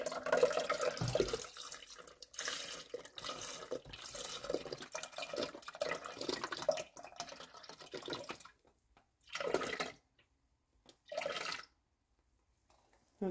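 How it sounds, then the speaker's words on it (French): Milk is poured into crepe batter, giving a close, soft liquid trickle that runs steadily at first, then breaks into a few short splashing bursts separated by quiet gaps. "Ensuite, je vais venir rajouter le lait."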